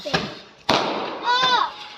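Two sharp firecracker bangs go off close by during a household festive celebration, the second louder, with children and adults talking and calling out around them.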